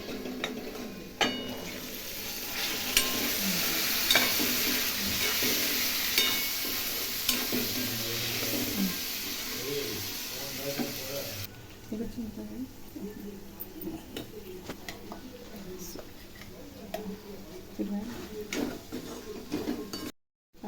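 Chickpeas stirred through a sizzling tempering of cumin powder and garam masala for chana palak masala, a steady frying hiss with intermittent scraping of a spoon against the pan, close and fairly loud, easing slightly partway through.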